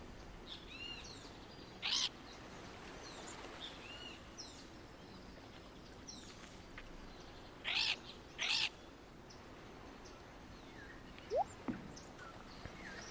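A few short, bright bird chirps and whistles from the video game Stardew Valley, scattered over a faint background hum, sparse and fairly quiet.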